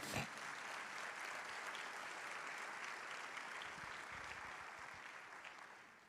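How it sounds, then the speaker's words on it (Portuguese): A church congregation applauding, a steady wash of clapping heard faint and distant. "Vamos aplaudir ao Senhor"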